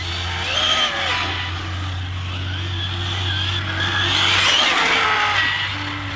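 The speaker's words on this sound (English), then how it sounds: "It pulls up the tires straight away," An ARRMA Infraction 6S BLX 1/7 scale RC car spinning and smoking its tires, with a high electric whine and rising tire squeal, loud and continuous, over a low background hum.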